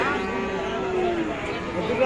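Sahiwal cattle moo in a long low drawn-out call amid the steady hubbub of a busy, crowded weekly cattle market.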